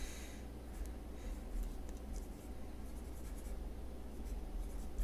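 A simple sentence is written by hand, soft scratchy strokes of a pen on paper that are faint and close, with a few brief taps and no speech.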